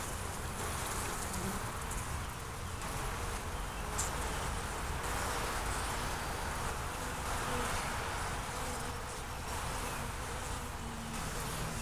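Honey bees hum in a dense, steady buzz from an open 18-frame long hive during an inspection, a close, unbroken drone filling the whole stretch with faint rustling and no talking.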